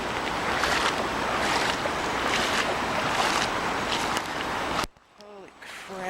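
Floodwater rushes loudly over a Longmont bike path in a steady roaring wash close by, then cuts off abruptly, leaving a brief voice over quieter background.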